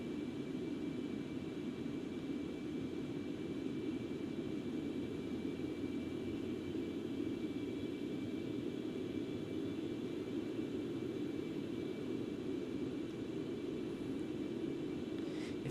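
Concorde jet airliner in the X-Plane 11 flight simulator, a steady broadband engine roar holding constant and moderately loud throughout with no talk.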